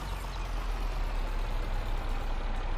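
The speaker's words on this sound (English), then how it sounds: "Little tractor handling it like a boss." A small tractor's engine in Farming Simulator 22 hums at a steady low idle-like drone, continuous and moderately loud with no talking.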